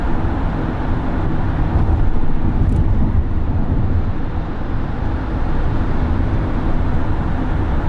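Inside a Hyundai Staria Hybrid cruising at about 80 km/h, a steady, loud broadband rumble of road and wind noise fills the cabin continuously with no talking.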